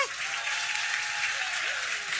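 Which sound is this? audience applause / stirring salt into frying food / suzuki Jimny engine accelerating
audience applause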